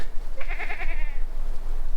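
A goat on a farm gives one wavering bleat, fairly close, against steady low outdoor rumble with no voices.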